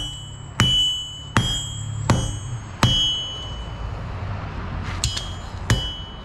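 A hammer strikes hot metal while a throwing axe is being forged, six sharp ringing clangs spaced irregularly, each with a bright metallic ring that decays, close and loud over a low background hum.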